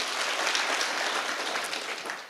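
Audience at a public security forum in Murang'a County applauding, a dense even wash of many hands clapping that holds steady and then tapers slightly.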